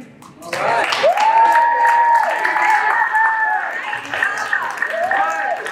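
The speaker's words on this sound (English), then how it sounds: "How about a great big round of applause for those ladies?" Audience applause and cheering at the 2023 Miss SHS pageant after a performance act, a crowd clapping steadily throughout while a voice rises over it and keeps talking.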